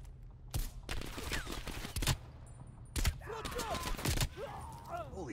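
Several loud, sharp gunshots and short bursts from Call of Duty: Black Ops Cold War crack out irregularly amid battle noise, with speech heard between the shots.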